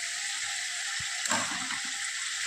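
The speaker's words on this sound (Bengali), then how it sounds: "এবার আমি চিংড়ি মাছটা দিয়ে দিলাম।" Shrimp go into a pan of spinach curry with potato and eggplant, giving a constant close sizzle and bubbling hiss with a soft splash midway.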